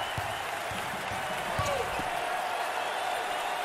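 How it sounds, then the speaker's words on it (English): Crowd at a 2021 NCAA tournament basketball game between Drake and Wright State applauding the players: a steady wash of clapping and cheering fills the arena, with a commentator talking over it and occasional thuds. "The crowd appreciates their effort."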